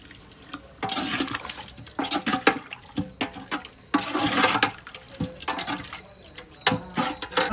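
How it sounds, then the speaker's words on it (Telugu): Goat tripe (boti) curry with garam masala boiling vigorously in a pot, close up, with loud irregular bursts of bubbling and spluttering liquid that surge and fade repeatedly. "మన బోటీ అయితే ఇట్లా ఉడుకుతుంది"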